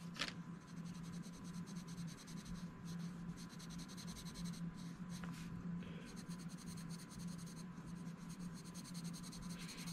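Ohuhu colored pencil scratching steadily across paper while coloring in brown, a continuous close, soft rasping texture with no talk over it.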